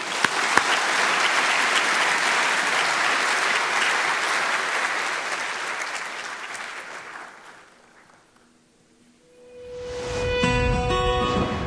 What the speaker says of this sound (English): Let's all give the winners a big round of applause.